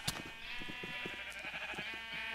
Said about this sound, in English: Just had a bunch of sheep.